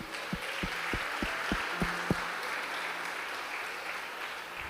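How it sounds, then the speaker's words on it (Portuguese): A church congregation applauds after a call to clap for Jesus, giving a steady, moderately distant wash of clapping with a few low thumps near the start and no talking. "Aplauda Jesus."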